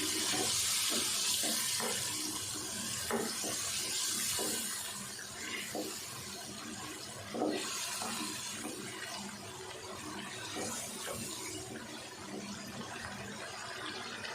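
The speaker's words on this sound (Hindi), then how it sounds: "थोड़ा सा पानी डाल देते हैं" Water pours steadily from a tap into a cooking pot of chicken chana dal, a continuous splashing hiss with a few clinks, close by and with no talking.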